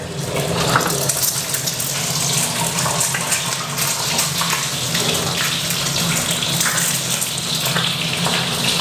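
Steady loud sizzling and crackling of an egg frying in hot oil for pad gaprao, a continuous hiss throughout with no voices.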